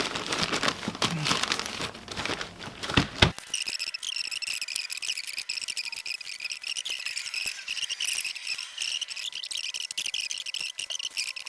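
Sheet of paper crinkled and crumpled by hand to line a fishing basket on a beach, a short loud rustling burst followed by steady lighter crinkling with faint crackles.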